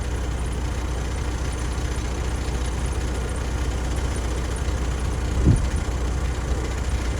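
A 2020 heavy-spec Freightliner Cascadia with a 505 hp DD15 diesel idles steadily with a low, constant rumble, a brief louder throb partway through.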